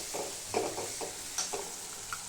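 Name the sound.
chili powder frying in oil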